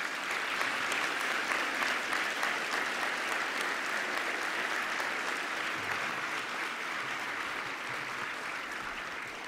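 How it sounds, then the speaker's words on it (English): An engineering awards gala audience gives honorees a steady, even round of applause, a broad wash of many hands clapping at moderate volume that carries through without pause. "Please, another round of applause for all of them."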